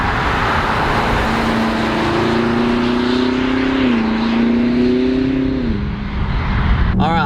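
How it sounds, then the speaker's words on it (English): A 2020 BMW M8 Competition's V8 pulls hard in first gear in manual shift mode, its loud, steady engine note climbing in pitch with a brief dip midway before rising again. "Really nice sound of the V8 coming here."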